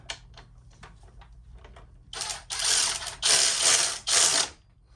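Ratchet wrench clicking rapidly while cranking a bolt tight on a Moto Guzzi motorcycle, loud close bursts of ratcheting in several runs after a quieter start, with no speech.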